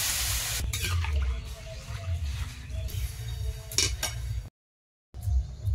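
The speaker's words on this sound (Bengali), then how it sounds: "মুগের ডাল একটু ধুয়ে নিয়ে আর সামান্য একটু তেল দিয়ে একটু ভেজে নিলাম" Mung dal being washed in water in a home kitchen, with steady splashing and running water, light clinks of a utensil against a pot, and a brief silent break near the end.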